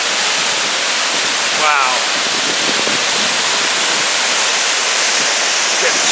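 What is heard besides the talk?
waterfall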